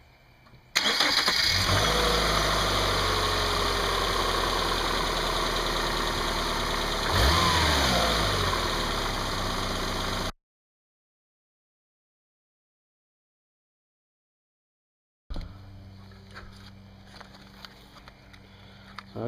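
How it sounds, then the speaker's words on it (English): A Subaru engine, run on battery alone, cranks and catches, then settles into a loud, steady idle close by with a brief rise in revs; it cuts to silence, then a quieter idle resumes. "I'm going to fire it up here on just battery for a second and see if it's quiet or not."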